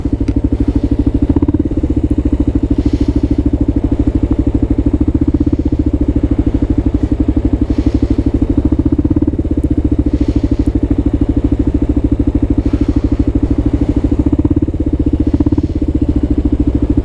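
A Kawasaki KLR650 motorcycle is ridden through city streets, its single-cylinder engine sounding as a steady loud rumble throughout, with faint traffic clatter and thumps in the background.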